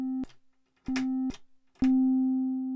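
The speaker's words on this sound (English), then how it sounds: "That green waveform is the sine wave produced by my filter in oscillation" A Doepfer VCF filter driven into self-oscillation produces a steady pure sine tone, heard in three bursts separated by brief gaps with clicks, the last one sustained and slowly fading.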